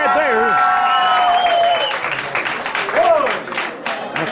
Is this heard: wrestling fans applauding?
yes